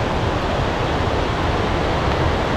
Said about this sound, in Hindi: ये वाटरफॉल के नीचे का खूबसूरती है।